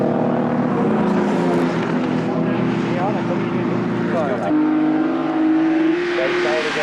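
Triumph TR race cars passing on a circuit during a 1995 race, engines droning loudly with rising and falling pitch as they sweep by, under continuous commentary.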